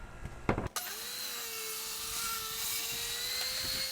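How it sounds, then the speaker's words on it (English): Table saw ripping through wood for a folding tabletop: a few handling knocks, then the blade spins up and cuts in a loud, steady whine that holds for several seconds, close by. "we're going to use the table saw"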